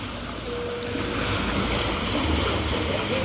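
Steady rushing floodwater flowing through a street after heavy rain, a broad continuous wash of flowing water with a windy hiss, no voices, constant level throughout.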